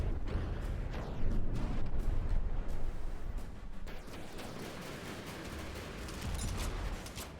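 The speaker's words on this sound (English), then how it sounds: "There's a big explosion" Rolling explosions and missile impacts boom in a dense, continuous barrage during a naval combat battle in the game From the Depths, loud with sharp crackling hits throughout.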